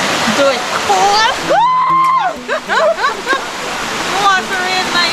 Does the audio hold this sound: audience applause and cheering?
no